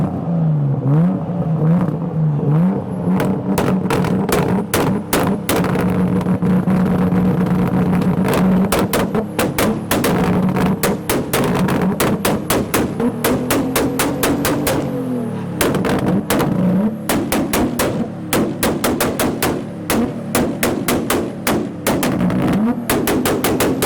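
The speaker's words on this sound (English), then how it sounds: "other cars are trying to pop and bang" Loud cars at a Japanese car meet in Reading rev and drone nearby while rapid exhaust pops and bangs crackle in bursts over most of the stretch.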